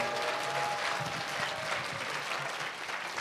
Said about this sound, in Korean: 다시 한번 이해찬 전 더불어민주당 대표님께 박수 부탁드립니다.